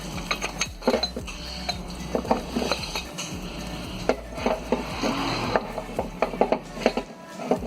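Metal parts clink and scrape as a water pump is worked free from a 2005 Toyota Yaris 1.0/1.3 engine, with close, irregular ratcheting knocks and rattles that continue steadily with no talk.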